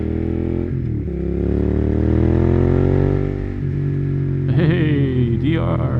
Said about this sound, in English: I have to say this M4 exhaust is really working for this bike. It's just the right soundtrack for this motorcycle.